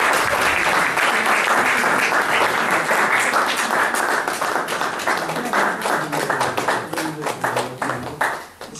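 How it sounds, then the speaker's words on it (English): Sustained audience applause at a Universal Peace Federation speaking event, a dense steady wash of many hands clapping that slowly thins toward the end, with no talking. "Again, round of applause."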